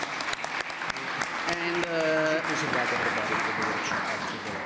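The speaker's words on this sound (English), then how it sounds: "if we want to give a last round of applause to them" Conference attendees give the presenters a final round of applause, a thick, steady clapping from a roomful of people, with scattered louder claps at first and voices talking over it partway through.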